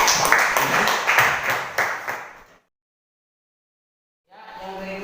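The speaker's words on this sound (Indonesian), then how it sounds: "Mari kita berikan aplaus." Audience applause at a university event in Indonesia, a dense burst of clapping from many hands that fades out after a couple of seconds, followed by silence and then faint voices.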